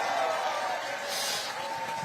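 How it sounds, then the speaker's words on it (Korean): A large crowd applauds at a packed outdoor political rally in Ulsan, with a dense, steady wash of clapping that holds at an even, fairly loud level throughout. "박수 한번 주십시오"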